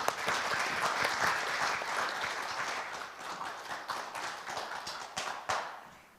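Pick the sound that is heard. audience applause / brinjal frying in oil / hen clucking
audience applause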